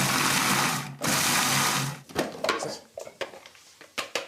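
Chopped onions in a food processor for a curry, two long loud whirring pulses followed by a string of short rattling bursts, close up, no talking.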